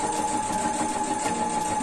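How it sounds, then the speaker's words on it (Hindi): A sewing machine stitches along the folded hem of a kurti, running as a steady, even mechanical whir that stays close and unbroken for the whole short stretch, with no voices. "यहाँ से मैं इसको स्टिच कर लेती हूँ। किनार पे आप ऐसे स्टिच लगा लीजिए।"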